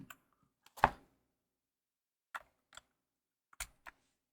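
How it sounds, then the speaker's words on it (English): Keycap being pulled off a RoyalAXE R100 mechanical keyboard, a few sparse plastic clicks and scrapes, one stronger snap early and a handful of lighter ticks later, close and quiet with silence between. "Let's see if I can pull one of these caps off here."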